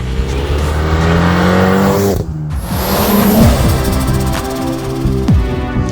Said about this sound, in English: Newsflash, you're driving a hot hatch.